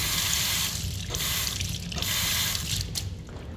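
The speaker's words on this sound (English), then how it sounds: "So you're washing your hands and you get these splashes of water" Water splashes from a faucet fitted with a tamper-proof aerator into a sink, a steady close hiss with rhythmic surges as the flow breaks up, heard alone.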